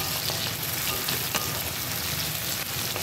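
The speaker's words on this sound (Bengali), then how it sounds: "আদা, রসুন, কাঁচা লঙ্কা আর পেঁপের পেস্টটা যে বানিয়ে রেখেছি ওটা দিয়ে দেবো, দিয়ে ভালো করে কষিয়ে নেব" Ginger, garlic, green chilli and papaya paste for mutton sizzles steadily in a pan, a dense continuous frying hiss with faint stirring scrapes, close and fairly loud with no talk.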